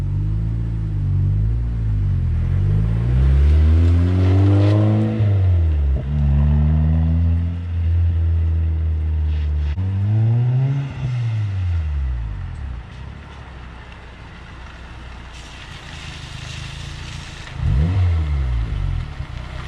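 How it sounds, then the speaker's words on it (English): A turbocharged Mazdaspeed 6 engine revs hard several times under full load, its loud exhaust note climbing and falling in pitch, then easing before one more sharp rev. "the exhaust, when you give it into like full load, it sounds nasty"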